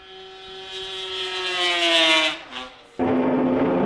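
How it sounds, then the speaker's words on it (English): Kawasaki racing snowmobile, number 81, passing by at a snowmobile championship race, a high-pitched two-stroke engine whine that rises and builds as it approaches, then drops in pitch as it passes, followed by a broad, steady roar. "Adam Braun out of Winnipeg rides by on the 81 Kawasaki"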